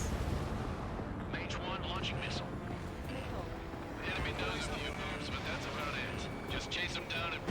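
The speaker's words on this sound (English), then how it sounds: "Mage 1 launching missile." In a jet combat game, missiles launch and distant explosions rumble and crack repeatedly beneath a continuous roar of aircraft engines, with radio chatter talking over much of the action.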